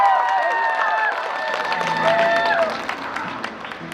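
Audience applause at a live performance, a clapping crowd heard beneath sustained tones and a voice, tapering off toward the end.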